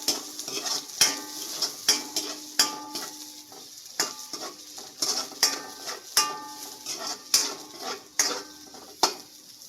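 Green chili peppers sautéing in a pan with fish tinola, a steady sizzle and fry hiss under repeated sharp scrapes and clinks of a utensil stirring against the pan, close and regular throughout.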